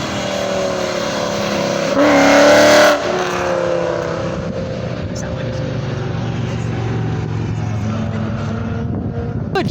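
A Ford Mustang at a car show revs its engine loudly, a brief surge peaking near the start, then settling into a steady rumbling idle under crowd chatter and background voices.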